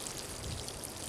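Water pours steadily into soil to soak the dry root ball of a tomato plant in a deep mulch garden, giving a continuous soft trickling and splashing close by, with no voices.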